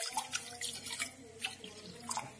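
Fresh cold water poured over hedge lucerne (Desmanthus virgatus) seeds after their hot-water soak, with close, irregular splashing and dripping that continues throughout.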